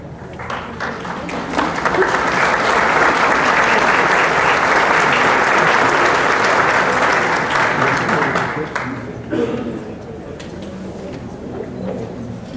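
A conference audience breaks into applause that swells to a full, dense clatter, holds for several seconds, then fades away to a quieter murmur of the room.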